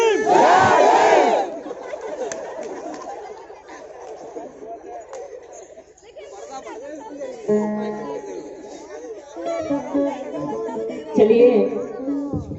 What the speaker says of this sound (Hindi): देखो आवाज कैसी होती है, बोलो जय भीम।